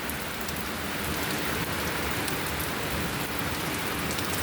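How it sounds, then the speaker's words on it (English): Steady rain falls and patters on surfaces, a dense, even hiss with no voices. "It's always raining"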